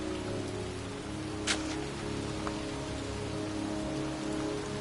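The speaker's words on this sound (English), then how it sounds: "It's raining." Constant rainfall in the video game Heavy Rain hisses evenly throughout, with a faint brief chime or tap standing out once, and no one speaking.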